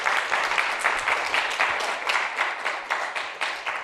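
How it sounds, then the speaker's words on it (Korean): An audience applauds a lawyer after his lecture on American conservatism at a Seoul National University forum, with loud, rhythmic clapping in regular pulses, close and sustained throughout. "송근종 변호사님께 우선 큰 박수 부탁드리겠습니다."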